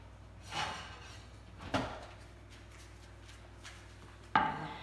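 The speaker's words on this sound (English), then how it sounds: "I'm going to get my scone scone tray from the oven." A metal scone tray pulled out of a home oven: a few separate clunks and scrapes, then a sharper clatter at the end, close by over a steady low hum, with no talking.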